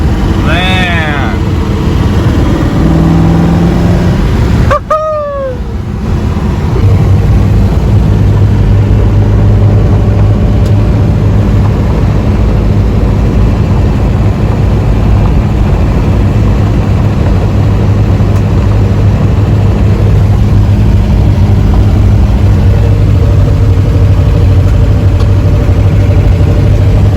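A 1967 Shelby GT500 cruises in fourth gear at low RPM, its V8 settling into a steady, deep rumble that carries on for a long stretch, with some talking over the engine noise.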